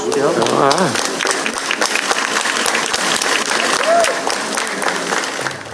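A crowd applauds as samba composer Nelson Sargento receives a vaccine, steady clapping under and around voices, with cheers and calls rising through it.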